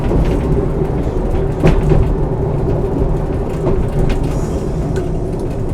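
A train rumbles steadily along a heritage railway line as it approaches a station, a continuous low, close running roar with faint rattles and no talk.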